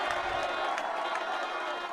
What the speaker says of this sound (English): this crowd's getting lit